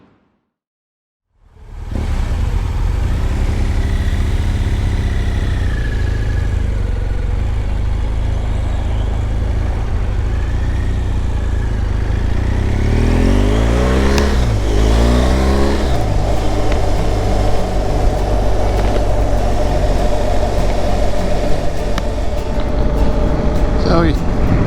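Motorcycle cruising a winter road on the Cherohala Skyway, starting from silence into a steady, loud engine drone with heavy wind rumble and a brief rising rev midway.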